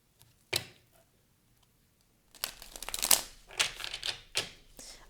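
Tarot cards are shuffled by hand, starting with a single soft flick. After a pause, a run of quick papery riffles and slaps follows, close and clear.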